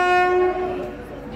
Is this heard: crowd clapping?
no